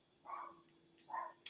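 A puppy gives two short, soft barks about a second apart, faint and somewhat distant against a quiet background.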